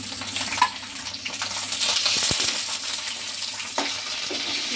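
Curry leaves, cumin and coriander seeds frying in a pan for gongura pickle, giving a steady soft sizzle with a few faint clinks and stirring sounds, no talking.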